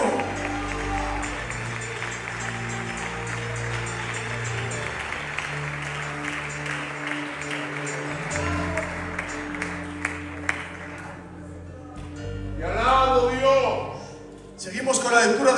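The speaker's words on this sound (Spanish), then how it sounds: "Fuertes aplausos para el Señor." A church congregation applauds with a dense, sustained patter, mixed with voices and musical tones, then fades briefly before a louder burst near the end.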